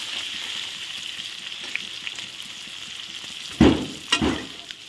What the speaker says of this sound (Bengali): দেখো আলু পটল এই যে সুন্দর করে ভাজা হয়ে গেছে।